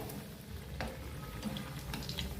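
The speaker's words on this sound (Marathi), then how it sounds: "खालची साईड आपली छान हे झालेली आहे तळली गेली आता ही वरची साईड आपल्याला छान तळून घ्यायची" Rava-and-potato medu vada fry in hot oil in a pan, giving a steady, dense sizzle with small pops and crackles. The sound is close and continuous, with no talk.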